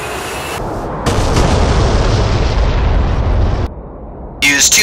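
Mark 82 bombs strike a vehicle command post in the DCS World combat flight simulator, a heavy, roaring explosion with a deep sustained rumble, then a second loud burst near the end.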